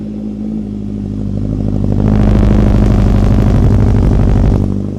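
Loud, close Suzuki Hayabusa motorcycle engine idling with a deep rumble, then revving up and holding high, before easing back down toward idle.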